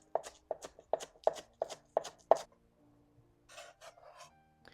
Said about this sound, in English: Chop the green part.